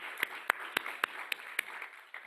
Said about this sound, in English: Lourdes, let's applaud and encourage.